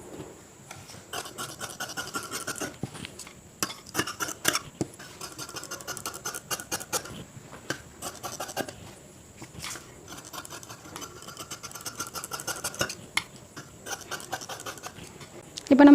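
Shears cut the front piece of a blouse lining from fabric in a quiet, close series of rhythmic rasping snips and slides.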